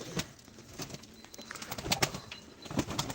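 Soft, scattered wing flaps and rustling from pigeons taking off, fairly quiet against a distant outdoor background.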